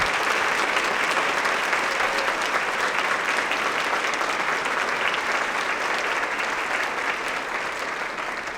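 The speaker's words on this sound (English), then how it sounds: "please join me in another round of applause for these outstanding scholars" Sustained applause from a large audience at the Salute to Success 2016 ceremony for outstanding scholars: loud, dense, even clapping filling the whole stretch, easing slightly toward the end.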